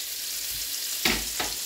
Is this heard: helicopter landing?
no